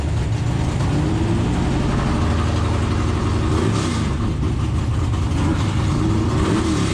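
A drag racing car engine held in neutral and revved hard, a loud continuous close roar with rising and falling revs throughout.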